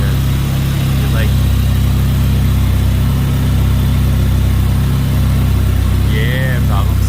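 A Volvo 242 GLT Turbo engine idling close by, a loud steady mid-pitched drone with a faint whine and slight pulsing, and a few brief higher squeaks near the end.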